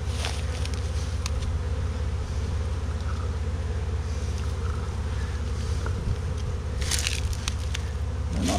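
A huge swarm of honey bees drones in a dense, continuous buzz that fills the whole stretch, loud and close, with light wind rumble underneath and a few brief rustles.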